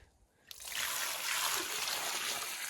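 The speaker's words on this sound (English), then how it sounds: "gonna dump the excess water" Excess degreasing rinse water is dumped from a container, starting suddenly after a brief quiet and continuing as a steady, close splashing pour.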